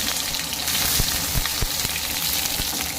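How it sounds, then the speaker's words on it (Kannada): Crushed garlic and onion frying in hot oil in a pan for tomato sambar, a loud, steady close sizzle with a few faint clinks of stirring. "ಈಗ ಜಜ್ಜಿರೋ ಬೆಳ್ಳುಳ್ಳಿ ಹಾಕಿ ಫ್ರೈ ಮಾಡಿ ಕೆಂಪಾಗವರು ಈಗ ಈರುಳ್ಳಿ ಹಾಕೊಳ್ಳಿ"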